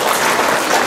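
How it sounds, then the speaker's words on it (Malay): Applause from a school audience at a primary school launch ceremony, a dense, steady clapping that fills the whole short moment at full loudness with no pauses. "Bagi tepukan sekolah kamu."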